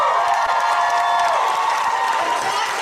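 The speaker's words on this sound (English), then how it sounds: "Listen to the clapping." A bookstore audience applauds and cheers for an author's appearance: steady, dense clapping with a few whoops, loud and close, lasting the whole stretch without letting up.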